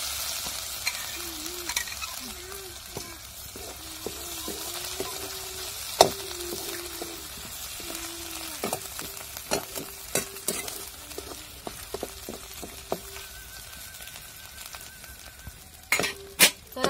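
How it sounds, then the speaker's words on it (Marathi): Pounded garlic, green chili and ginger paste sautéing in a pan for paneer bhurji, a low steady sizzle broken by repeated metal spatula scrapes and clinks against the pan, close by with no talking. "त्याच्यानंतर आपण जो खलबत्त्यात कुटून मसाला घेतला होता का लसूण मिरची आणि अद्रक ते टाकून चांगलं परतून घ्यायचं आहे"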